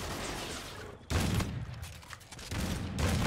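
Salvo weapon fire in the Call of Duty: Infinite Warfare video game, heard as loud blasts and booming bursts that recur in several waves with short lulls between them, and no talking.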